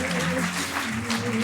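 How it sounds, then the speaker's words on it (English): Applause from a crowd with a musical tone and some voices mixed in, steady and fairly loud for the whole stretch. "That was a big round of applause one more time."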